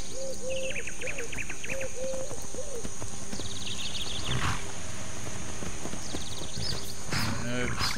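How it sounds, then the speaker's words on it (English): Horse hooves clip-clopping in the video game Skyrim, a rhythmic run of hoofbeats under game ambience, with occasional chirps and other effects and a voice talking over part of it. "Emily should ride a horse now."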